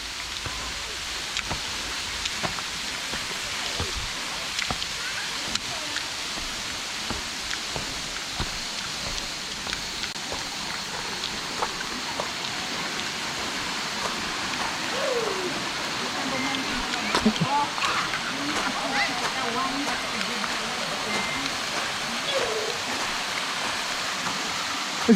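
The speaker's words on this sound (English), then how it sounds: "Is it raining, or is it just drops coming off the leaves from the trees? It is raining, isn't it?" Rain falling and dripping from leaves in Colo-i-Suva Forest Reserve near Suva, Fiji, a soft, steady patter with scattered drops close by and faint birdsong in the background.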